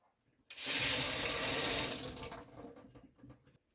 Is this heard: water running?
yes